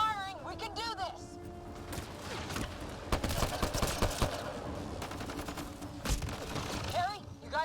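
Sci-fi weapons fire in a Mass Effect: Andromeda firefight, bursts of rapid shots and impacts crowding the middle stretch, with voices calling out over the combat at the start and end.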